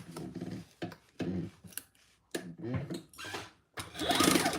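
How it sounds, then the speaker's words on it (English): A sewing machine running a basting stitch along a crossbody bag, in short bursts of whirring stitching that start and stop, with quieter gaps between and a longer, louder run at the end. "and now we're just going to baste that in place."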